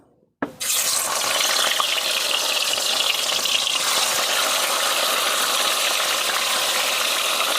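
Katla fish pieces, salted, dropped one by one into hot oil and ghee, hitting with a sudden burst of sizzling that settles into a steady, loud, dense frying hiss, close and alone.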